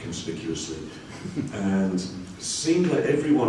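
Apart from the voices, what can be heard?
None of the usual background noises is heard.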